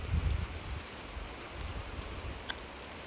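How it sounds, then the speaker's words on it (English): Light rain falls steadily on a farm, a soft broadband patter with some low rumble early on and a single faint tick near the end. "It's still raining. A little bit."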